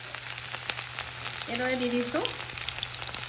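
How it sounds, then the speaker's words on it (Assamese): Garlic and onion sizzle in refined oil in a wok, a continuous close hiss and crackle running under brief speech from the cook. "এইখিনি অলপ ভাজি ল'ম আমি এতিয়া।"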